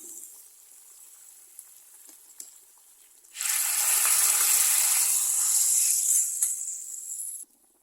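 Hot tempering of dried red chillies and curry leaves hits a pot of sambar with a sudden loud, sustained sizzle that roars for about four seconds, then cuts off. Before it, only quiet kitchen background is heard.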